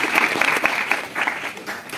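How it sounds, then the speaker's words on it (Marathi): An audience at a rally claps in a dense, fairly loud burst of applause that carries on throughout with no let-up. "एकदा जोरदार टाळ्या वाजवून आपण त्यांचं अभिनंदन करूया"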